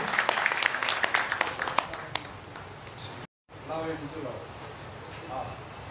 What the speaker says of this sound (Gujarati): જોરદાર તાળી પાડીશું।